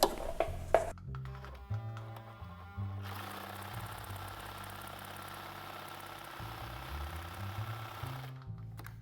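A sewing machine stitches fabric in bursts, its motor whirring up and down in steady runs with short pauses between, close and fairly quiet.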